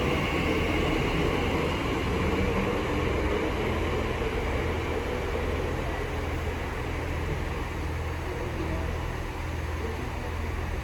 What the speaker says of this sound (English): Now departing is the 1346 TfL rail service from Reading to London Paddington.